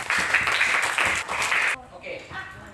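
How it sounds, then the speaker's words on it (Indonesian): A classroom of students claps in a brisk burst of applause for under two seconds, followed by quieter room sound with a voice talking. "Oke, tepuk tangan semuanya."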